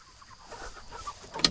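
Chickens moved around a grazing pasture give soft, brief clucks scattered over a quiet outdoor background, faint and without talk.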